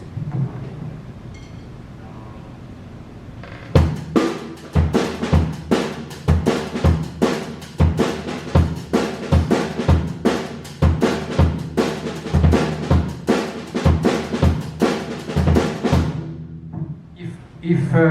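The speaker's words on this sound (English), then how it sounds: "if I pick a simple drum and bass groove which sounds like this." A fast drum and bass groove played on an acoustic drum kit, with crisp snare hits and cymbals driving a steady rapid rhythm, starting after a quiet pause.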